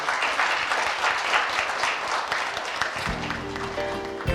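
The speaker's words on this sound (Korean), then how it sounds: "다시 한번 큰 박수 부탁드리겠습니다" Conference hall audience applauds a speaker at a Korean session on Hallyu content, dense steady clapping that begins to thin toward the end as a low tone or hum enters.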